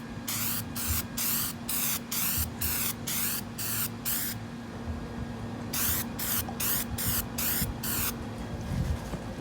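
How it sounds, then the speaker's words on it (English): Two bursts of aerosol spray paint, each a rapid string of short hissing puffs, with a pause between them and a steady low hum underneath, sprayed on a 2001 Chevy Suburban dash. "do a quick little spray."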